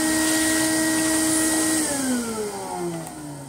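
An Electrolux 504 vacuum cleaner runs with a loud, steady motor whine, then the pitch drops and winds down as it slows toward the end.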